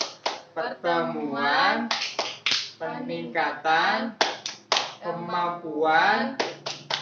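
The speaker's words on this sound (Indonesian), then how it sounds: "kita tepuk P2K2 dulu biar semangat bareng-bareng ya" A group of women claps the rhythmic P2K2 chant pattern together, sharp bursts of claps alternating with short chanted phrases in a lively, call-like rhythm.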